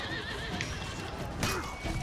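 A horse in the game For Honor gives a loud whinny, accompanied by hoofbeats and battle ambience.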